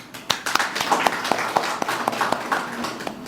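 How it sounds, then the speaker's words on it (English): At the grand opening of a new education centre, an audience claps in a scattered patter of close, crisp handclaps that continues for a few seconds without speech. "we deserve a round of applause for that"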